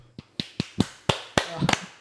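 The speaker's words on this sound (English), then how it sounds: "I gotta clap in the microphone" A single person claps sharply and close into a microphone, about seven distinct claps in an uneven rhythm, with faint vocal sounds near the end.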